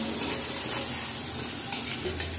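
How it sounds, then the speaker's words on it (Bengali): Prawns fry in hot oil with a pinch of salt and turmeric, a continuous close, even sizzle with faint crackles throughout. "চিংড়ি মাছগুলো দিয়ে দেবো। সামান্য লবণ, সামান্য হলুদ দিয়ে ভেজে নেবো"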